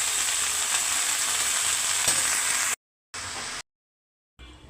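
Greens and mashed boiled potatoes fry in a pan with salt, giving a loud, steady broadband sizzle that cuts out abruptly twice before resuming faintly near the end.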